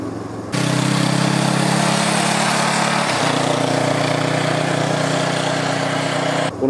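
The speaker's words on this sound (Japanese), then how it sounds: "このドロドロドロっとした排気音が聞こえてきていると思いますが" A Honda CL500 180-degree-crank parallel-twin exhaust drones loudly and steadily under open throttle in sixth gear on a mountain pass, with a slight shift in pitch midway before cutting off.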